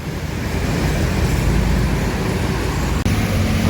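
Dense, constant roar of heavy road traffic with engines rumbling nearby, a brief dropout just after three seconds, no voices.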